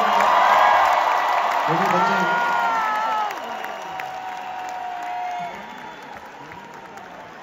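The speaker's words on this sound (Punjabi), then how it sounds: "ਇਹਨਾਂ ਲਈ ਜ਼ੋਰਦਾਰ ਤਾੜੀਆਂ" Crowd at a concert in Dallas clapping and cheering, a loud, roaring wash that fades slightly partway through, with a voice speaking over it.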